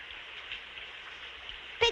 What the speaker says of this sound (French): voilà qu'il commence à pleuvoir